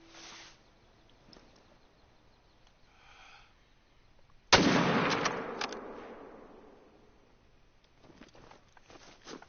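A single hunting rifle shot in theHunter: Call of the Wild cracks out loud and sudden, then rolls off in a long fading echo across open terrain, with faint ambient noise before and after.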